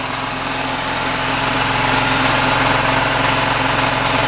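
A Hollingsworth air compressor engine fitted with a new muffler idles steadily, a loud continuous low rumble with an even pulsing throb and no pauses.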